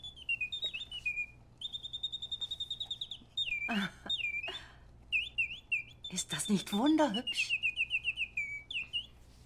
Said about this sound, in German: Das ist eine Nachtigall.